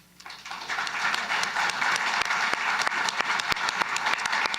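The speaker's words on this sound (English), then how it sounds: "I was clapping for the Premier there" Applause at a press conference on an energy and pipeline agreement: a small group claps, rising quickly from quiet into steady, moderately loud clapping with distinct individual claps standing out, and no talk over it.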